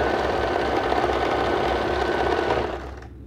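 A sewing machine runs fast and steady, stitching the folded hem of a nightgown in a continuous close mechanical whir that winds down and stops near the end.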